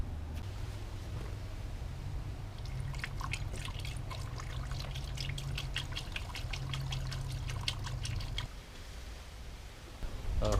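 Diesel exhaust fluid trickles through a funnel into a Navion RV, a steady close gurgling pour with a low hum beneath, ending in brief dribbles and handling noise.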